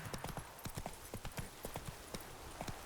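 Horse hooves clip-clopping at a steady galloping rhythm in The Witcher 3 video game, close and clear with a faint whinny, no talk over it.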